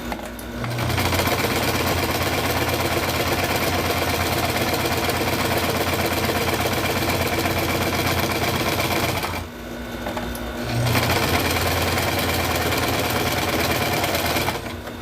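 A heavy duty sewing machine runs at a fast, steady, loud stitching chatter, stops briefly for about a second, then runs on again, with no talking.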